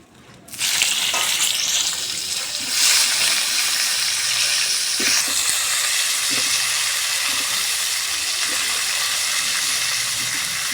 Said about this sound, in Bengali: এবার এই তেলের মধ্যে ফুলকপিগুলো ভেজে নেব